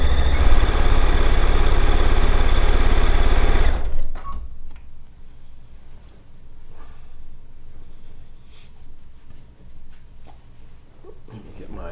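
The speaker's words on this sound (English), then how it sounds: "And now I'm going to go ahead and just stitch it on down here." A sewing machine stitching binding onto a quilt runs in a loud, fast, steady whir for about four seconds, then stops, leaving quieter handling noises and soft rustling.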